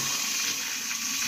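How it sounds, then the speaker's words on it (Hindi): Water pours steadily from a bucket into a cooking pot of onions, a continuous close gushing splash with no voices. "इसमें अभी डालते हैं इस बाल्टी से पानी।"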